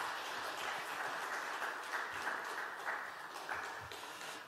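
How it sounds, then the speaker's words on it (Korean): A church congregation in Yeosu gives a welcoming round of applause to a visiting pastor. The clapping is soft and distant and holds steady before tapering slightly at the end. "우리 환영의 박수로 같이 할까요?"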